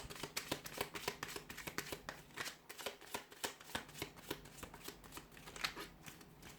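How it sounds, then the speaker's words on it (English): Tarot cards being shuffled by hand in a quick, continuous series of crisp riffling flicks and soft slaps, close and clear, with no talking. "Let's give the cards a shuffle"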